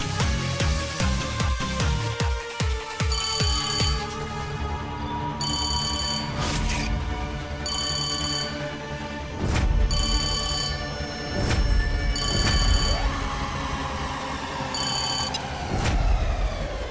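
A telephone rings in a Hindi TV serial drama scene, its repeated bright electronic trills sounding in steady bursts over a swelling dramatic music score, with no talk.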